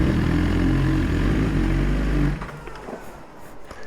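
A Triumph Tiger 900 Rally Pro motorcycle engine idles loudly and close with a deep, steady rumble, then is switched off about two seconds in, leaving quiet background noise.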